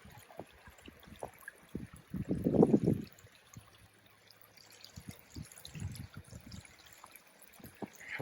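Creek water trickling and burbling at a low-water crossing on a snowy day, a soft steady flow with a couple of louder gurgling surges and scattered small splashes, no voices.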